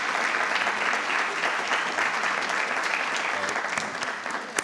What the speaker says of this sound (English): I want to ask the families of our honorees to stand for applause